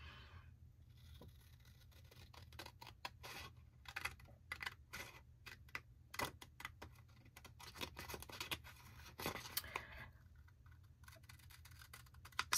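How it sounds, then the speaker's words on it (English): Scissors cut paper for a journaling page, making a quick run of sharp, close snips and crisp slicing sounds in an otherwise quiet room, with no voices. "Let me pull my scissors."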